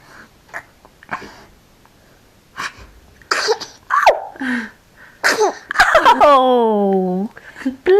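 A short sneeze bursts out near the middle of a home scene, set among other breathy vocal sounds and a drawn-out voiced cry, with people talking around it.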